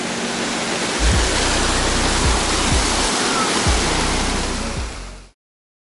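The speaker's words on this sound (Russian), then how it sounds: "И вот мы прям уже рядом с водопадом." A mountain waterfall near Sochi roars as a loud, steady broadband rush, with a few low thumps from the microphone handling. It runs with no voices and stops abruptly near the end.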